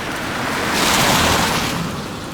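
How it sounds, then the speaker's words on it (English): A car driving through deep street floodwater throws up a broad, rushing splash that swells and fades over a couple of seconds, loud and close, with no talk. "I seem to have been blasted with water from an oncoming car"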